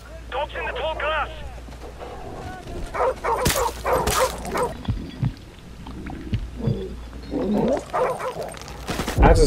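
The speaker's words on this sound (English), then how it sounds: "Dogs in the tall grass!" Dogs bark and yip in tall grass during a Call of Duty: Modern Warfare Remastered campaign mission, short bursts scattered amid game effects and sharp impacts, with a voice speaking at the start.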